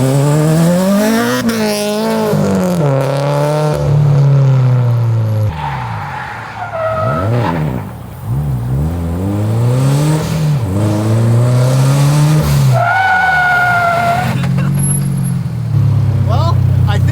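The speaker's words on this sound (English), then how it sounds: "Let's go ahead and get behind the wheel. See how good these brakes stop." A turbocharged Scion FR-S braking hard on cheap eBay brakes: a loud engine rises and falls through repeated revs, with long tire squeals during stops and a voice talking over it, close to the car.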